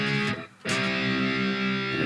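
Distorted electric guitar playing open, unmuted power chords from a riff, loud and sustained with a short gap near the start before the chords ring on alone.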